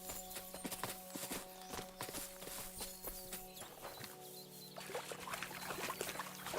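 Horse hooves clip-clop in the medieval game Kingdom Come 2, a quick, regular run of hoofbeats close by over a low ambient hum, fairly quiet overall, with no talking.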